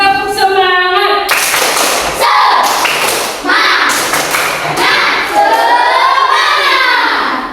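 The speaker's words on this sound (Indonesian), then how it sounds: "sekali lagi, tepuk semangat" Children in a primary school religion class clap a rhythmic cheer together, with sharp hand claps and thuds under loud young voices chanting along throughout.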